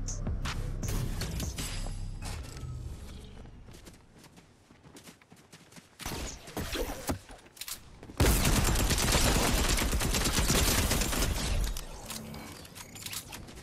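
Rapid tactical SMG bursts in Fortnite rattle in dense, loud volleys, with a long sustained spray in the second half, mixed with clattering game effects.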